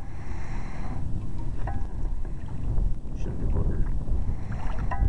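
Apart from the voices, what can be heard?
wind blowing on a lake during boat fishing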